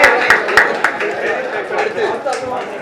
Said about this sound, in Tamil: பெரிய கைத்தட்டோட let's welcome யுவராஜ்